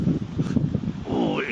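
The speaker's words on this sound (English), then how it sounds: "Oh, seriously windy out there." Strong outdoor wind gusting at around 35 to 50 miles an hour, rumbling and buffeting loudly against a close microphone, with a voice speaking over the noise.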